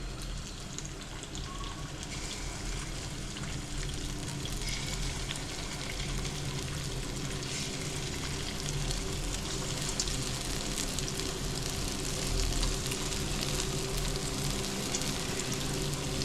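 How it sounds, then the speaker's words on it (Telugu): Small punugulu fritters sizzle in hot oil, a steady dense crackle and hiss that holds at an even level throughout, close by with no voices over it. "ఆయిల్ వేడెక్కిందమ్మా ఇప్పుడు చిన్న చిన్న పునుగులు వేస్తున్నాం"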